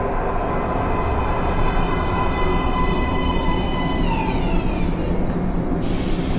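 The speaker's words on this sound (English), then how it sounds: "Please step away from the edge of the platform. Train coming in." Underground metro train in Metro Last Light pulling into a platform, a steady loud rumble with high whining tones that bend downward as it slows, then a sudden drop in the upper hiss near the end.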